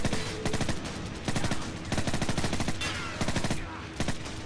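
Suppressed automatic weapon fire in Call of Duty 4: Modern Warfare comes in repeated rapid bursts, loud and close, with brief gaps between volleys.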